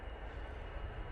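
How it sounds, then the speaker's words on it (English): An Emirates airliner pushing back at Manchester Airport gives off a steady, even rumble of engine noise that holds at one level throughout the short stretch. "Emirates pushing early by 10 minutes."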